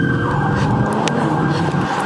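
A police car siren wails steadily at moderate distance amid traffic and engine rumble at a gas station where a street car meet is being broken up, without speech.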